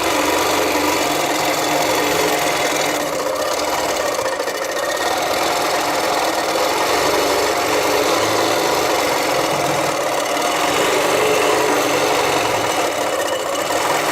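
A quilting machine runs steadily on a Handi loft quilting frame, a loud continuous mechanical whir with rapid stitching texture and faint rubbing, no talking.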